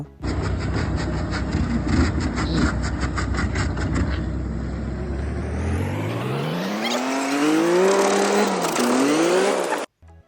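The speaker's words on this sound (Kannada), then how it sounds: "ನೋಡ್ರಿ ಇಂಜನ್ ಸೌಂಡ್ ಹೆಂಗೆ ಬರುತ್ತೆ ಈಗ" An old Mahindra jeep under restoration runs its engine up close and loud, a rough steady rumble that then revs with a rising, wavering whine before cutting off abruptly; no one speaks.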